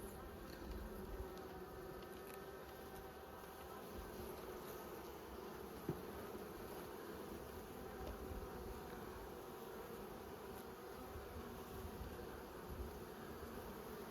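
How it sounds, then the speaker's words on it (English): A weak colony of honey bees in an opened hive drones in a constant, faint buzzing hum that holds steady throughout, with no voices over it. "these bees are really weak, making a lot of noise"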